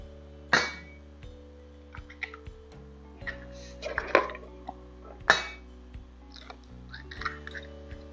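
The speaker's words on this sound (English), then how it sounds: "I have 5 eggs, which I'm gonna crack in here" Five eggs are cracked one after another into a bowl for bread pudding, each giving a short sharp tap and crack, spaced a second or so apart, near and fairly quiet, with faint clinks of the bowl between.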